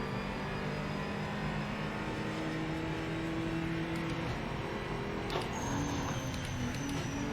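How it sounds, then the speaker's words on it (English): In the Project Motor Racing game at Okayama Circuit, a Chevy race car engine drones and climbs under throttle down the main straight, a steady loud roar with rising tonal whine and a sharp gear-change around midway. "Breathing the throttle, the Chevy's going to use its engine to bugger off down the main straight"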